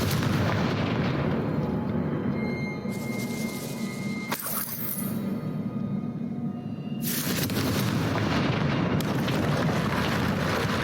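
Confringo fire blast spell in Hogwarts Legacy, heavy explosive booms over a dense, loud, rumbling roar that swells and persists for several seconds.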